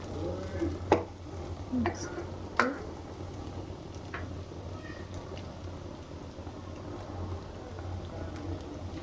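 Food is stirred together in a frying pan with a steady sizzle, a few sharp scrapes of the utensil against the pan near the start, then continuous low frying.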